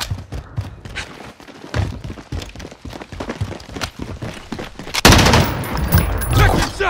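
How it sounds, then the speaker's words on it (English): Call of Duty Modern Warfare team deathmatch on Aniyah Palace: rapid automatic gunfire in close bursts with thumping impacts, swelling into a heavier, louder barrage near the end. "I'm taking fire!"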